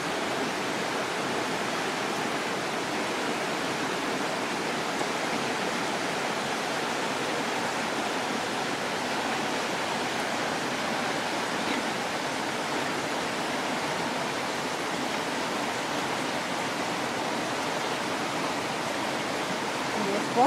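A river flows steadily during a family vacation outing, a constant broadband rushing wash of water, even and unbroken, moderately close with no distinct voices.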